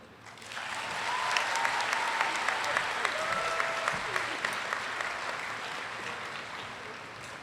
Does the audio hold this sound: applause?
yes